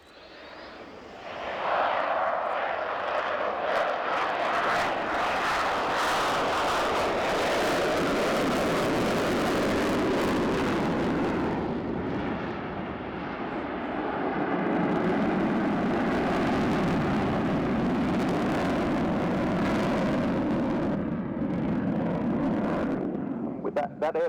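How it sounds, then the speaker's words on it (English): A modernized Ukrainian Su-27 P1M Flanker jet passes slowly with its air brake deployed at an air show, a loud, continuous engine roar that swells and holds steady for the whole stretch, with voices faintly underneath. "This is a modernized one, a Su-27 P1M, at very slow speed indeed, with the air brake deployed."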